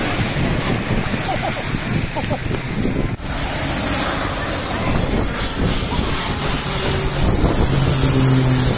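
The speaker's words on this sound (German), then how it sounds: "Und jetzt warten wir halt alle, bis der nächste Flieger kommt." A jet engine roars steadily and grows slightly louder as an airplane comes in to land at St. Maarten airport, with faint voices in the background early on.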